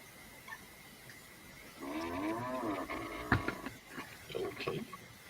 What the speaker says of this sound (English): that was my chair as I swung round